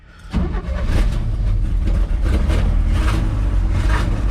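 A 1997 Chevy C10 squarebody step-side truck engine cranks and catches after starter fluid, then runs loud and steady up close, roaring continuously with a rough, slightly uneven note.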